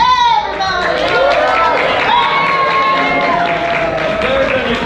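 Audience at a patriotic program clapping along, crowd applause and chatter running beneath a lively voice with sliding whoops and calls, fairly loud and close throughout.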